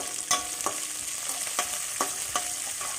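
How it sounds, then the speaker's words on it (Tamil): Vegetables sauté in a pan for aval upma (flattened rice upma) with turmeric and curry leaves, a constant sizzle broken by several sharp scraping stirs of a spatula at irregular intervals, close and without speech. "காய்களையும் சேர்த்து வதக்கி நன்றாக கிளறி வதக்கிவிட்டு"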